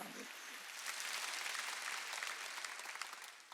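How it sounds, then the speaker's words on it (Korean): A church congregation at a Sunday worship service claps together in a sustained, fairly soft burst of applause heard from a distance, swelling slightly in the middle before tapering off. "이거 박수 치라."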